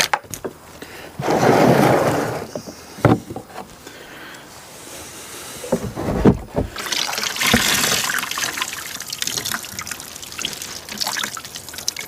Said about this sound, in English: So I'm just going to pour it back into the container so I can continue using it.